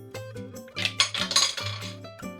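Two twelve-sided dice rolled onto a hard surface during a cooking game, giving light clinking, clattering taps that bounce and settle over a couple of seconds, close and fairly quiet over a low steady background hum.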